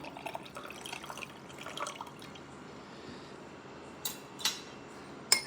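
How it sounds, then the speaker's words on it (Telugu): Water is poured into lemon juice with a soft, steady trickle and some dripping, quiet and close, ending in a few sharper splashes or clinks. "నెక్స్ట్ వాటర్ యాడ్ చేసుకోవాలి."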